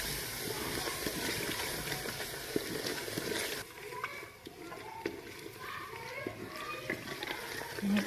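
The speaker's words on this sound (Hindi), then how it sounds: "और अब हम मसालों को अच्छे से भून लेंगे।" Ground spices such as red chilli, garam masala and turmeric roasting in a pan for aloo methi, heard as a steady hiss and sizzle that loosens and quietens partway through, with faint scraping and light clatter.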